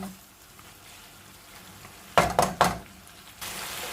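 Chicken wings being stir-fried in sukiyaki sauce sizzle steadily in a pan, then two or three sharp, loud scrapes and knocks of the spatula cut through before the frying settles back, close up with no speech.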